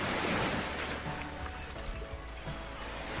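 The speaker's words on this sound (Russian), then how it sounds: "пение птиц и еще и шум волн" Sea waves wash in a steady, loud surf roar beside a palm-lined shore in Italy, broad and continuous; any birdsong is buried under the waves.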